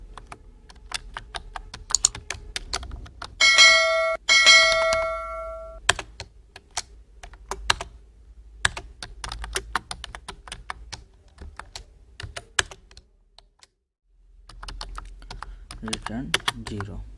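Rapid bursts of typing on a computer keyboard while C code is written in Code::Blocks, close and crisp clicking with a few short chime-like tones and pauses between runs; a voice speaks in places.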